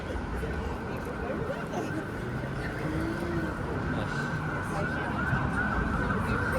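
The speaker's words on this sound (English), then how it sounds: "this police cruiser speeds by here. Lights and sirens." A police cruiser's siren wails steadily over heavy traffic and road noise on Bay Street in downtown Toronto, with a car passing close by.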